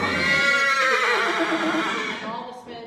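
A gelding horse lets out a loud, close whinny, a long quavering neigh that slides downward and trails off at the end.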